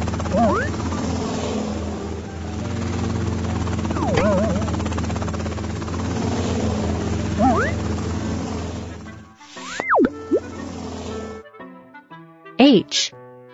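A helicopter's steady rotor drone fills the background while a child-like voice speaks over it, ending with a few short musical tones.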